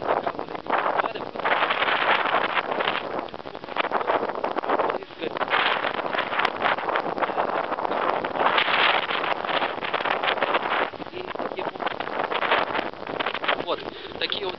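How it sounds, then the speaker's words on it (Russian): Abnormally strong storm wind in Novorossiysk roars and buffets the microphone steadily throughout, loud broadband gusting with no pauses, a person speaking faintly underneath. "В Новороссийске аномально сильный ветер."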